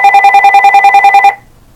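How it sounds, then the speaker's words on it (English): A telephone bell rings in a rapid, steady trill of repeated metallic pulses, loud and close, then cuts off abruptly as the phone is picked up, leaving a faint low hum behind. "excuse me while the phone gets picked up"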